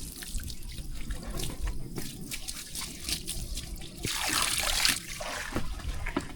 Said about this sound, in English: This cow's waiting for this water to fill back up